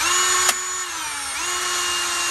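A handheld power drill whines steadily as it drives screws into an Andersen storm door during installation, its pitch sagging under load and then recovering, with a brief click near the start.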